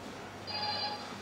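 A telephone bell rings once in a short, faint burst midway through, over a quiet room with no talking.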